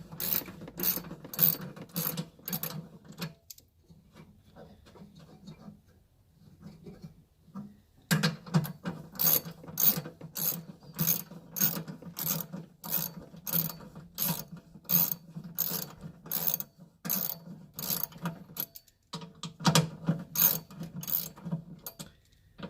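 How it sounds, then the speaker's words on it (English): Ratchet wrench clicking rapidly in long rhythmic runs while removing bolts from a Sprinter van passenger seat, close and distinct, with brief pauses and quieter fiddling between bursts. "your next step is going to be taking out these first two bolts in the front of the passenger"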